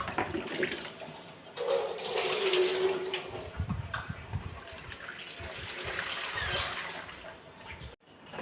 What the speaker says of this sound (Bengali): ভালো করে আমি এটাকে ধুয়ে নিব কচতে কচতে আবার এভাবে দুই তিনবার করে ধুয়ে